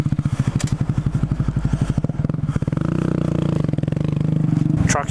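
A motorcycle engine chugs in rapid pulses, then revs higher into a steady, close drone, with a brief rattle near the end.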